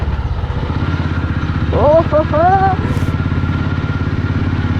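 A motorcycle rides steadily along a smooth paved road, its engine droning with a continuous pulsing rumble, close and loud, while a rider briefly exclaims over it.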